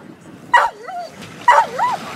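Rescue dogs from an Italian water-rescue school at an outdoor dog parade give two close, loud barking yelps, each trailing into a whine, about a second apart.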